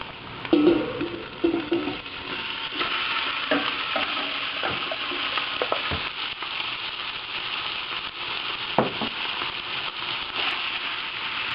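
Chicken sautéing with softened onions in a pan for molo soup, a steady close sizzle with scraping stir strokes and small pops throughout, no talking.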